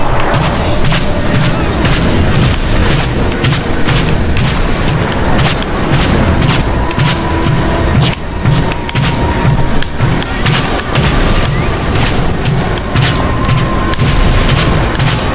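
Weapon fire from the Crash Tag Team Racing video game, a loud, dense barrage of booming blasts and bangs over continuous racing noise with no letup.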